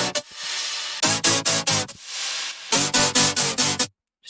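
Grouped saw synth layers for a future bass track in Ableton, run through an EQ for a cleaner tone, alternating loud sustained chord swells with bursts of rhythmic gated stabs, then cutting to sudden silence, with no voice.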